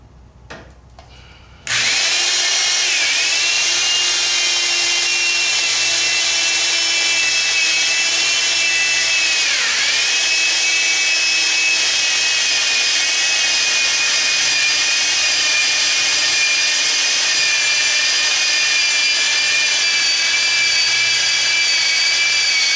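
After a brief quiet moment, a power drill whirs up loudly and grinds steadily through metal floor pans, pitch dipping briefly under load before holding constant.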